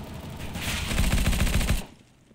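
Rapid automatic gunfire in Counter-Strike: Global Offensive on the Dust 2 map, a dense burst of close shots lasting about a second before stopping abruptly.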